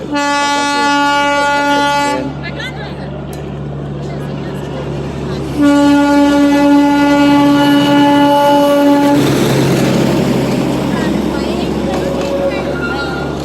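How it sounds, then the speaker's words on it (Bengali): A toy train at Batasia Loop in Darjeeling sounds long, loud sustained horn blasts, two separated by a pause, over a steady rumble of the moving train, with people talking nearby. "ঘুরে ট্রেন আসছে।"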